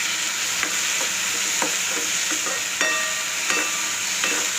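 Tomatoes fry in a pan with cooked onion, giving a steady sizzle, while a spoon scrapes and stirs in several distinct clicks and taps close by.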